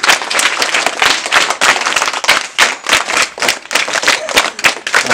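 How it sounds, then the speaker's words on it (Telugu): A school audience claps together with rapid, dense, uneven hand claps that carry on steadily for several seconds, loud and close, with no talking over them. "క్లాప్స్"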